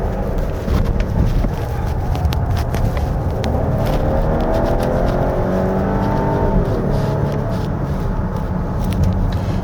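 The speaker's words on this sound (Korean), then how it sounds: "엑셀을 끝까지 밟아가지고 가속을 그러니까 가속을 풀가속을 해나갈 때에는" A 2025 Volvo XC60 B6 AWD accelerating at full throttle on a winding mountain road, a steady loud engine roar with rising pitch and wind rush, heard from inside the cabin with no talk.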